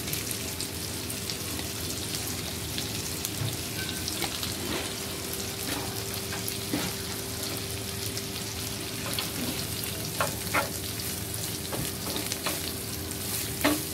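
Snake gourd frying with coconut in a pan, a steady close sizzle with occasional stirring scrapes and clinks, no talk.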